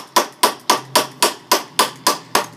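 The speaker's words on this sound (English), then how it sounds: "Use a hammer on that, man." Hammer blows while assembling a homemade basketball hoop from threaded bolts, nuts and washers: eight sharp, evenly spaced strikes, close and loud, with nothing else heard.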